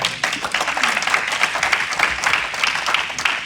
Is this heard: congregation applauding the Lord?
yes